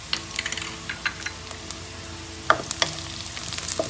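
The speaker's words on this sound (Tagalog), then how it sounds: "Then, sunod na natin ang ating bawang." Garlic sautéing in a pan while cooking ginisang sayote with ground pork, heard as a faint, steady sizzle with scattered light clicks and scrapes of stirring, no voices.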